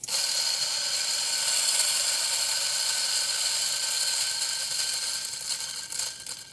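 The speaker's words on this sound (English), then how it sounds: "I then put the coffee inside the chamber. Yep, I'm still at 0 here. And I grind." A Ceado E37sd single-dose espresso grinder grinds coffee beans, producing a steady, loud, high-pitched mechanical whine with rattling crunch that runs continuously and slightly wavers near the end, with no talking.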